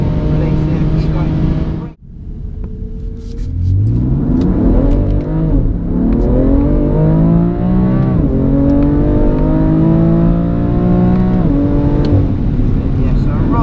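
A BMW on the Goodwood track accelerates hard after a brief lull, its engine note climbing steadily through the revs, loud and close throughout.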